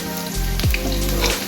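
Red chillies dropped into hot oil beside onions for a vegetarian aloo dum set off a sudden loud sizzle that swells, then holds for about a second before cutting off.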